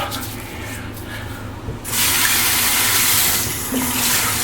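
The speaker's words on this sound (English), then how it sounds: "Cold water rinse here." Cold water runs steadily from a tap for a rinse after shaving, a broad hissing gush that swells louder partway through and continues without pause.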